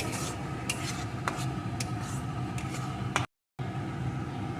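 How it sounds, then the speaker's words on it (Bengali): Thick semolina and palm-fruit dough is stirred in a cooking pan with a spoon, giving a steady scraping, rubbing texture with occasional clinks against the metal, close and continuous, broken by a brief silent gap near the end. "কিছুক্ষণ রান্না করে নেব যতক্ষণ না এটা একটা শক্ত ডোয়ে পরিণত হয় ততক্ষণই অল্প আছে কিন্তু এইভাবে নেড়ে নেড়ে রান্না করতে হবে"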